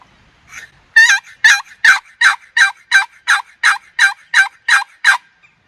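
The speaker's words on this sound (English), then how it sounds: "Got the box call. Let's see if we can get a gobble." A wooden box call used for turkey hunting, played in an open field, gives a rapid run of about a dozen sharp, evenly spaced yelps that ring out loud and clear with nothing else audible.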